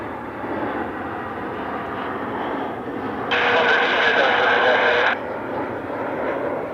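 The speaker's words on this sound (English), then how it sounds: "A321 Neo." A Frontier Airbus A321neo airliner arriving from Phoenix at Cleveland Hopkins airport, a steady distant jet roar that swells louder for about two seconds midway before easing back.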